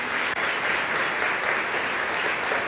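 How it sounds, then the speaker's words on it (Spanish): Church congregation applauding newlyweds, a dense, even roar of many hands clapping, sustained and fairly loud with no speech over it. "Bexabé y José Andrés, ponte de pie para que te vean y les den un fuerte aplauso, hermanos."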